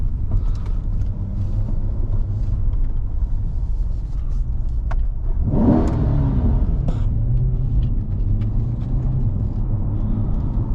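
A Chevrolet C8 Corvette Stingray coupe's engine rumbles steadily, then swells in a loud rev that climbs and falls back to a deep idle-like drone.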